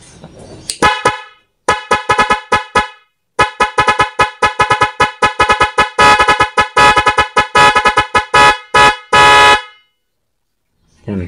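Dual horn on a motorcycle fitted with a Nite 3 Plus Pro music module plays a loud melodic tune of rapid staccato toots in bursts, with brief pauses and a long held blast near the end.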